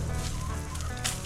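A small backyard flock of chickens clucks and murmurs in a brief, noisy outdoor moment beside a garden and compost pile, the calls soft and somewhat muffled under broadband background noise.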